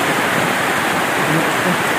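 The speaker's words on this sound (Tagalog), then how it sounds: "Kusog kay ulan diri kaganiha guys." Heavy rain pours down steadily in a typhoon, a dense, loud, unbroken hiss close by with no pauses.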